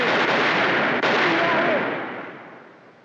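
Gunfire in a Western shootout: a loud, dense crack opens the moment, another sharp shot lands about a second later, and the roar and echo then fade slowly, with no talking.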